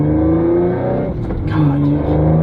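A single-pulley Audi S5 B8.5 with a six-speed manual revs hard while driving, the loud engine note climbing, dipping briefly as it shifts, then pulling up again close to the microphone.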